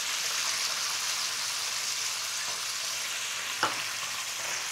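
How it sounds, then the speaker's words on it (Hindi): Besan fries sizzle with tomato ketchup in a pan over high flame, a loud, steady hiss and crackle with a brief sharp clack of the spoon partway through. "हाई फ्लेम में बस कुछ ही सेकेंड हमें इसे अच्छे से मिलाते हुए पकाना है"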